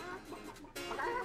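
A chicken clucks close by in a short burst of hen calls, with little else around it.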